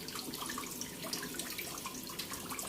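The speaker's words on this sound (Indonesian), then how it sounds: "lalu ngalir netes sini sebagai air terjun" Water trickles and drips steadily from a pipe into a koi pond, falling as a small waterfall; a continuous close splashing wash with no voices.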